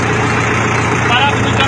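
A self-made 60 horsepower 4x4 tractor's engine idles close by in a steady, loud, even rumble, with someone speaking over it.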